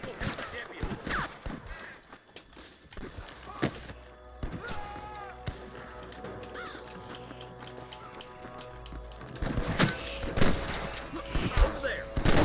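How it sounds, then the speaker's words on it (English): Gunfire crackles through a Red Dead Redemption gunfight: scattered sharp shots and volleys, some distant and some closer, against a low in-game ambience, growing denser toward the end. "I can hear more gunshots."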